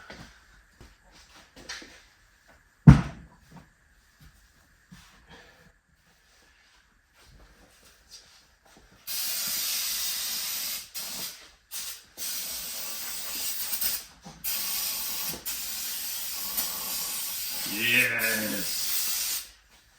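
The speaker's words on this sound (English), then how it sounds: "Weld again." Arc welding on the gears of a Sterling 10.5 limited-slip differential to lock it: a steady, loud crackling hiss starts partway in and runs in bursts with short pauses, after quieter clanks and shuffling.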